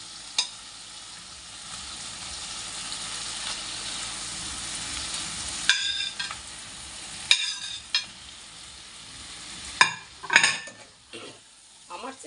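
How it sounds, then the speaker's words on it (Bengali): Prawns frying in cooked spice paste as they are stirred, a soft steady sizzle with scattered clinks and scrapes of a utensil against the pan that grow busier toward the end. "এবার আমি"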